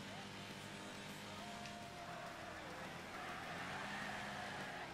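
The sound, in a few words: racing car engines in the Wreckfest video game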